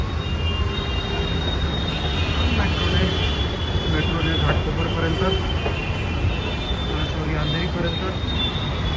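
Constant rumble and rushing noise from inside a moving Mumbai metro train, with a faint high whine and some muffled background voices.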